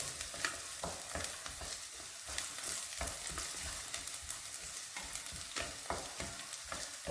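Tamarind roasts in a frying pan for a spicy masala powder, with steady close sizzling and crackling while a utensil stirs and scrapes in repeated strokes.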